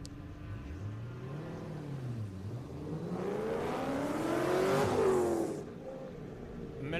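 Number 6 autocross race car at Daytona, engine revving up and down through corners, then accelerating hard with a rising whine that peaks loud and close before dropping away.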